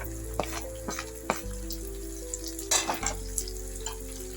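A bottle gourd curry with green chilli, coriander, cumin and coriander powder fries in a pan with a bright, continuous sizzle, marked by several sharp stirring clicks and a burst of scraping near the end, close and without speech.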